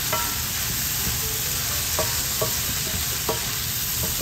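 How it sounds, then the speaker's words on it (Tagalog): Mushrooms frying in butter in a pan hiss steadily at close range while a utensil stirs them, giving several short scraping clicks spaced through the sizzle. "Pag naglagay nyo ng butter, stir ninyo, haluin ninyo"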